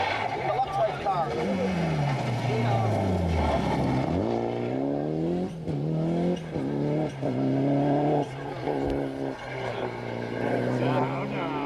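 A rally car races through a stage of the 1995 Cork 20 International Rally, its engine revving hard and rising and falling through the gears as it passes close by, with spectators talking over it.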